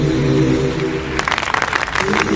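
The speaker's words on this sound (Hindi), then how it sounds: "तालियां।" A studio audience breaks into applause after a loud stretch of music and voices, a dense burst of clapping taking over midway and fading back under the music.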